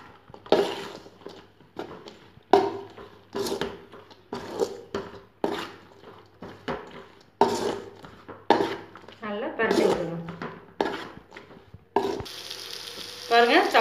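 Chilli chapati pieces stirred and fried with chilli powder in a pan, giving repeated scraping stirs and a steady sizzle that grows louder near the end, with a voice talking between the strokes.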